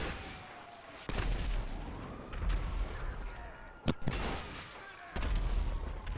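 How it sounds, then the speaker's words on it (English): Rockets colliding and exploding in GTA V, with several sharp blasts and booming detonations spread through a rumbling, noisy game scene, one especially loud burst near the middle. "Oh, did our rockets collide?"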